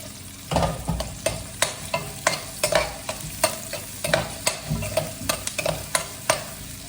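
Chicken wings with ginger sizzle in a hot pan while being stirred, rhythmic scraping strokes roughly twice a second over a steady close frying hiss.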